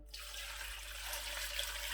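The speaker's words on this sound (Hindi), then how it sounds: "अब मैं बीच में पानी जो है वो ऐड करूँगा।" Water poured into a pot of rice for Kabuli pulao, a steady rushing stream that starts abruptly and runs close and continuous to the end.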